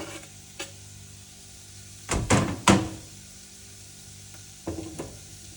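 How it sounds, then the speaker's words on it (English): Garlic dropped into hot oil in a pan with parboiled potatoes, giving a soft steady sizzle broken by a few louder scraping stirs and clatters, quiet and close in a small kitchen, no talk. "so I'm gonna put the garlic in"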